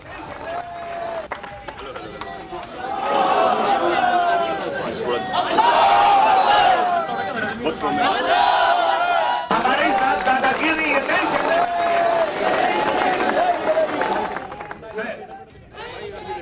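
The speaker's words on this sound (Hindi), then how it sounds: "नारे लग रहे थे अल्लाहू अकबर, नाराए तकबीर। इससे जंतर मंतर गूंज रहा था।" Large protest crowd at Jantar Mantar opposing the Waqf bill, chanting religious slogans in loud, sustained massed voices with a steady roar and shouted bursts throughout.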